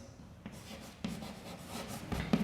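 Writing on a board or paper during a maths lesson, several short scratchy strokes in quick succession, moderately close, with no voice.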